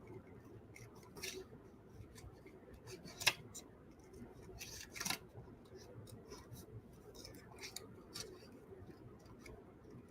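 Quiet, close snips of scissors cutting paper, sharp little clicks at irregular moments over a soft background hum.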